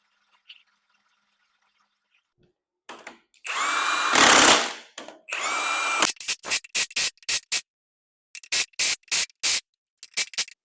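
A power tool drives the harmonic balancer bolts on an engine, starting with a long loud whirring run, then a second burst, then a string of short sharp impact rattles in quick bursts, close and with no talking.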